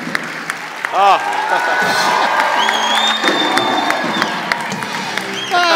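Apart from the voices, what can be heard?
audience applause and cheering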